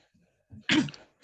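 One sharp, harsh cough bursts out close by from a sick person with a lingering cough, preceded by a soft breathy stir and followed by a brief trailing rasp.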